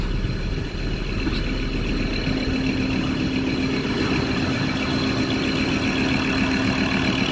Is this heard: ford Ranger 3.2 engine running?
yes